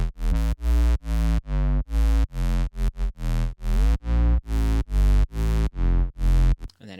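A heavy main bass for a UK bassline-style track plays alone as a loud, rhythmic run of sustained, harmonically rich notes with short gaps, chopped into a bouncing pattern of varied lengths.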